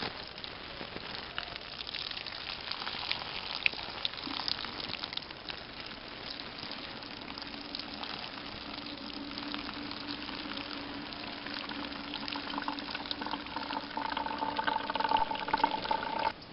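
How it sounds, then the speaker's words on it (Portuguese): Simulated 30 mm rainfall from an erosion simulator falling onto soil with a dead straw cover, a steady, moderately faint watery hiss and splatter running continuously, growing slightly louder toward the end, with no talk. "Neste momento nós vamos fazer uma simulação da chuva de 30 milímetros sobre um solo com presença de palhada"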